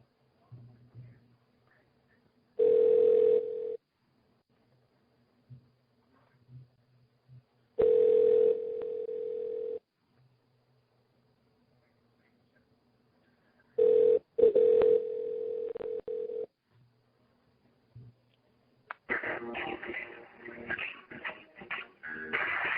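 A telephone ringback tone sounds during a call placed on a live album-debut interview show: three steady, fairly loud tone bursts separated by silent gaps, followed by a burst of noisy, jumbled sound at the end.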